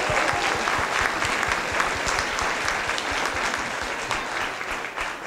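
Steady, dense applause from a crowd of parents at a children's school event, continuous and fairly loud throughout without a break.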